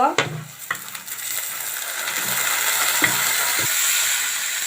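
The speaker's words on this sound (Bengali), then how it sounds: "এবারে শাকগুলো দিয়ে দিব।" Radish greens go into a pan of frying chopped onion, green chilli and garlic, with a few clattering spatula knocks at the start and a bright, steady sizzle that fills the rest.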